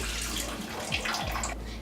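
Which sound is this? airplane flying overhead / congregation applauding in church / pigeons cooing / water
water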